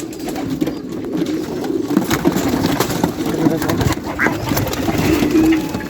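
Pigeons in a farm loft coo in low, rolling, overlapping calls, close and fairly loud, with some shuffling and scraping in the background.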